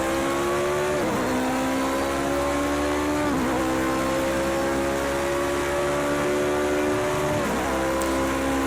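A car races in Project CARS 2, its engine droning loud and steady while revving up through the gears, with several brief dips as it shifts, sustained throughout.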